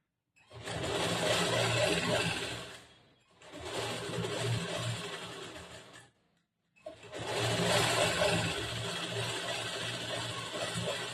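A sewing machine stitching a half-inch fold of back-hook blouse cloth runs in three long, steady whirring bursts separated by brief silent pauses, close and clear with no talking.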